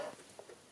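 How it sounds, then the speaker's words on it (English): A single short, loud cough from an adult woman who is still getting over the flu, bursting out suddenly at the very end after near silence with faint handling noises. "I'm going to cough as well."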